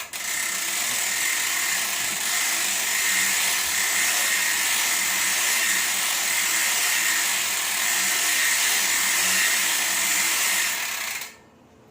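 Speedone Sniper and Weapon Ambush bicycle freewheel hubs spin together with a dense, steady high buzzing tick that runs loudly for several seconds and then stops abruptly.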